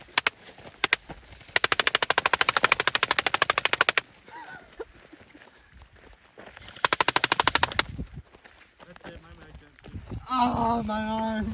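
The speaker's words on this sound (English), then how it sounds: "We just shot it with full auto, pretty close, and it dented it a lot, but nothing went through at all." Airsoft rifle firing full-auto bursts at close range into a homemade fire-resistant shield, two long rapid rattling volleys with a few single shots before, then a voice cries out near the end.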